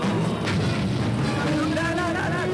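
A loud, booming grenade explosion from the Gargoyles cartoon rumbles deep and sustained for a couple of seconds, with a crackling tail and some tonal effects near the end.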